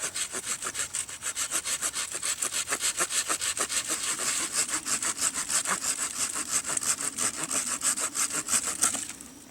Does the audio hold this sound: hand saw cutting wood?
yes